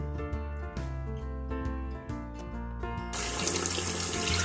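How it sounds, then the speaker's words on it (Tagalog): Tap water runs into a cooking pot while cucumber pickles are prepared, a steady splashing stream that changes pitch as the pot fills and swells into a fuller rush near the end. "Lagyan ko siya ng tubig."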